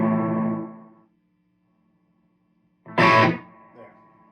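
Electric guitar played through an Epiphone Valve Senior tube amp with its reverb turned all the way up: a chord rings and fades into silence, then a sharp strummed burst follows with a lingering wash of reverb.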